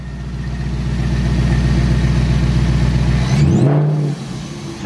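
A 2021 Ford Mustang Mach 1 with a newly installed ESS supercharger revs hard and steady up close, holding a loud throaty drone before the throttle drops back to a lower idle.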